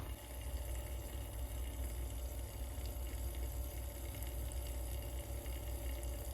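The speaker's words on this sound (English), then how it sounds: "Froth up some milk." A milk frother whirs steadily as it froths milk in a cup, a quiet continuous hiss with a bubbling, liquid texture and no pauses.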